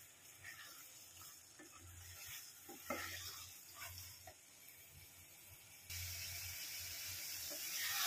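Mushrooms being stirred and mixed into a mustard masala in a pan, with repeated scraping and stirring strokes over a soft sizzle, close by and fairly quiet.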